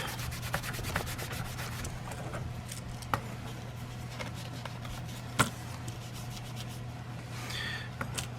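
A rag rubs and wipes excess finish off a leather sheath, a close, steady scrubbing and brushing texture with a few light taps, all at low level without talking.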